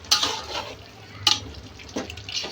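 Prawns being stirred in a frying pan for prawn biryani, with three distinct scraping stirs over a soft sizzle, close by and fairly quiet.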